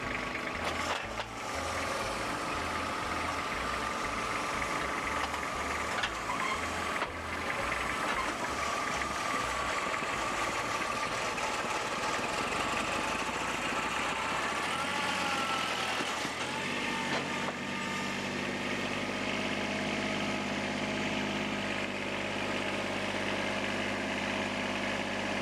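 A farm tractor idles steadily while being loaded onto a trailer in the rural American South, a continuous low rumble with a pulsing throb that shifts pitch partway through, close and without speech.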